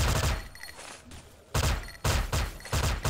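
Gunfire from the Kris SV-CRB submachine gun in a video game, loud close bursts of rapid shots in three or four separate volleys with brief pauses between them.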